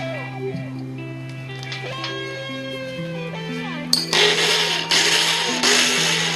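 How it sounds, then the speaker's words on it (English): A countertop blender grinds roasted pumpkin seeds, starting with a loud burst of harsh, gritty whirring that holds steady to the end, after a stretch of tonal background music. "Let's see what blender does to it."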